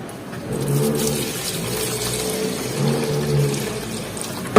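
Petrol poured from a container into an empty can while working on a scrapped car engine being rebuilt, heard as a steady, close liquid gurgle and splash that runs throughout with slight swells.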